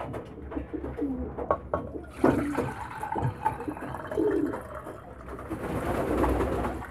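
Pigeons coo softly and repeatedly at close range, with low burbling calls over a steady background hiss and some shuffling.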